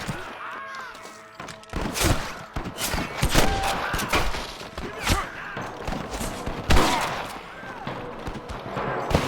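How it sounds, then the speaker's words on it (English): Repeated gunshots in the Western video game Red Dead Redemption, sharp cracks scattered irregularly through a busy firefight with thuds and hoof-like clatter, some shots near and loud, others farther off. "I can hear more gunshots"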